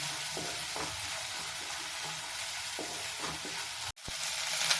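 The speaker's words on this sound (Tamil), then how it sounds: "இப்போ நம்ம வதக்கிட்டுருக்குறோம். வெங்காயம் போட்டு" Chopped onion sautéing in a pan with ginger garlic paste, a dense continuous sizzle with occasional stirring scrapes, close and loud, broken by a brief dropout near the end, no voices.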